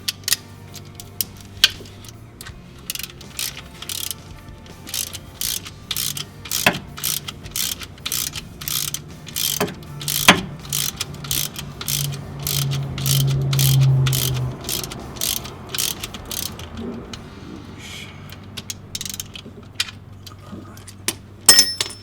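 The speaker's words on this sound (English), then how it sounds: "so we can get our nut back on." Metal nut threaded and tightened onto the transmission ground of a VW Bus, a run of rapid ratcheting clicks close by, pausing midway and then resuming, with brief speech in between.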